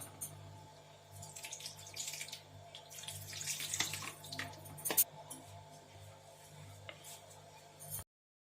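Water runs and splashes into a pan for vermicelli upma seasoned with turmeric and chilli, a close, moderately loud pour that builds to a splashy peak before stopping abruptly.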